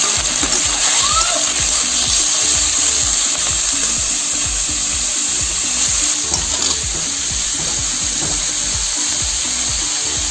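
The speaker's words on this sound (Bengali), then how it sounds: "এই যে চিংড়ি মাছ কটা ভেজে নেব।" Prawns fry in hot oil in a wok, a loud, steady sizzle with crackling and scraping that runs the whole time without talk.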